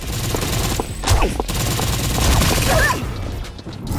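Bursts of automatic gunfire from a multiplayer mobile shooter, rattling continuously with a couple of heavier impacts and some mechanical clatter, loud and up close.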